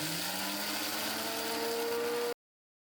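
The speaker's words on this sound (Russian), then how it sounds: "Измельчаем овсянку блендером до состояния мелкой крошки" A blender grinding oats into fine crumbs whirs loudly and steadily for about two seconds, its motor pitch rising slightly, then stops abruptly into silence.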